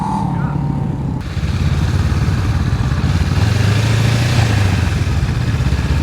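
A motorcycle engine drones steadily during slow-speed riding practice, loud and close with a rough, low throb that holds near one pitch and dips slightly in revs; muffled voices may sit under the engine.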